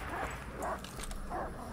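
Attack dogs in Call of Duty Vanguard give short, muffled barks and yips, about three quick bursts under a dense game noise bed.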